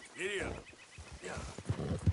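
A horse in Red Dead Redemption 2 gallops with quick, uneven hoof thuds and a brief whinny, close and fairly faint, under a voice.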